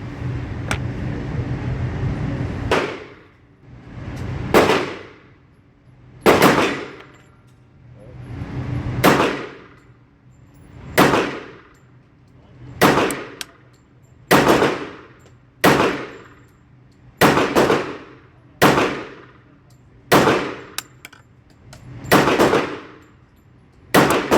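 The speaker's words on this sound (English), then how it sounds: "Shooting much better on this second 100." A Bul Armory SAS II Tac Commander stainless steel .45 ACP pistol fires single shots at a range, about a dozen loud, sharp reports spaced a second or two apart, each ringing briefly.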